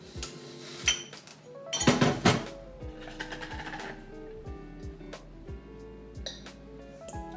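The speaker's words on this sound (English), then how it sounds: "I'm giving it a nice good mix." A sourdough starter is stirred with filtered water in a deep jar, producing repeated close knocks and scrapes of a spatula against the glass in an uneven rhythm, with a louder clatter early on and no talk.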